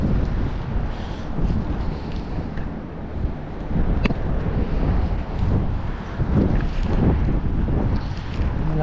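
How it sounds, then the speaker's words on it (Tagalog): Strong wind at sea buffets the microphone with a steady roar and low rumble, gusting throughout with no voices. "Ang lakas ng hangin sa taas."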